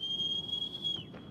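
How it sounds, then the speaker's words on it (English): A character whistles to call his horse in the video game Shadow of the Colossus: one steady, sustained high whistle lasting about a second, then a quick downward slide, over a low ambient rumble. "Oh, he just whistled."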